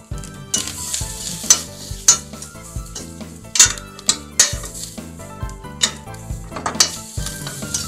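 Grated coconut is dry-roasted and stirred in a pan for kathamba sambar, with repeated rhythmic scrapes and clinks of the spoon over a light sizzle and music behind.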